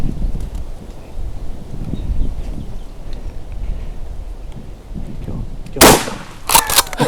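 A shotgun fires at a wild turkey during a public land hunt in Wisconsin: quiet outdoor rustling, then one sharp, loud blast near the end followed by brief crackling bursts.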